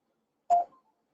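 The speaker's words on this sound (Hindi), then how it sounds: "मोबाइल बजने लगे बगल में" A mobile phone sounds nearby during a Hindi lesson as a single short electronic beep, clear and isolated against silence.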